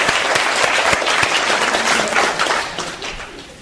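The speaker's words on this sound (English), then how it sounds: "Nice round of applause." A conference audience at a negotiation keynote breaks into full, dense applause with a few sharp individual claps, loud at first and then thinning out and fading toward the end.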